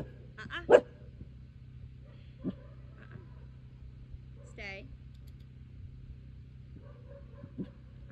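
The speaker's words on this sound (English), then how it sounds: "Another dog's barking and making noise." Another dog barks in short bursts during outdoor obedience training, with a few sharp nearby sounds over a quiet background hum.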